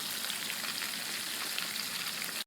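Breaded chicken parmesan cutlets frying in a pan give a steady, loud, close sizzle that holds evenly throughout and cuts off abruptly at the end, with no voices.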